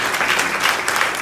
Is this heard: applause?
yes